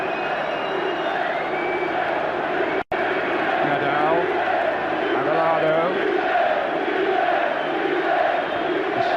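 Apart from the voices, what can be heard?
football stadium crowd cheering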